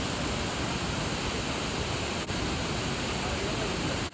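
The Athirappilly waterfall in Kerala pours in monsoon flood under heavy wind, a constant, loud, broadband roar of rushing water with no break.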